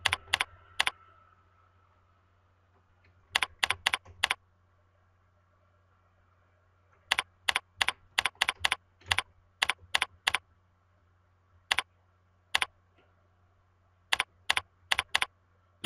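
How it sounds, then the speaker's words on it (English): Typing on a computer keyboard during account sign-up: sharp, close key clicks in quick irregular clusters separated by pauses, over a quiet low hum. "Type in your password."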